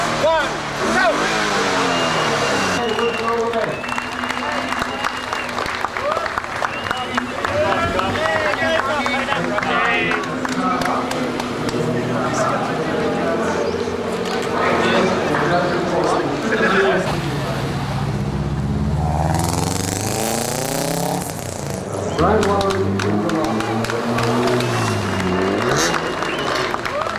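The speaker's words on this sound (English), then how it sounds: "59 cars roared out of the city of churches" A pack of 59 rally cars roars away from the start line out of Adelaide in PlayStation Rally Australia, a loud continuous engine roar mixed with cheering from a big crowd, under a narrator speaking throughout.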